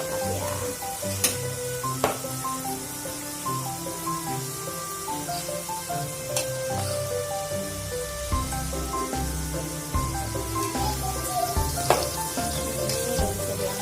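Batagor wonton skins frying in hot oil, with a dense, continuous crackling sizzle and scattered sharper pops under a steady low rumble.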